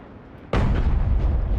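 A heavy shell blast from a Jagdtiger tank gun in a video game, one sudden loud boom that then rolls on as a sustained roaring rumble, with no talking over it.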